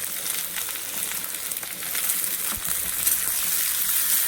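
Beans and carrots frying in a pan for chow mein, a steady bright sizzle that grows slightly louder as the vegetables go in, with a faint clink partway through and no talking.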